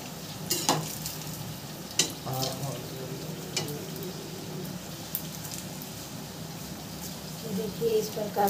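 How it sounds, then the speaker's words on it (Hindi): Veg momos fry and are turned in a pan with a faint, steady sizzle and occasional light scrapes and taps, under a quiet voice. "उलट पलट के सारे मोमोज को इस तरीके से हम फ्राई कर लेंगे"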